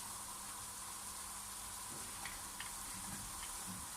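Flour crumbs for Kars-style Umaç halva fry in a pan with a faint, steady sizzle, dotted with a few light ticks and scrapes from slow stirring.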